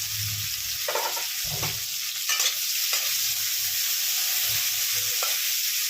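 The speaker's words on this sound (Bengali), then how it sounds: "এবার আমি তেলে করলাগুলো দিয়ে দিচ্ছি, দিয়ে আমি ভেজে নিচ্ছি।" Bitter gourd slices fry in hot mustard oil with a steady, close sizzle. A spatula stirs the pan several times, adding intermittent scraping strokes over the constant hiss.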